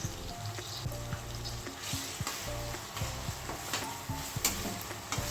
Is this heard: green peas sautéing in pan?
yes